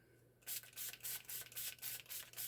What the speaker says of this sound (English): this one I'm just gonna spray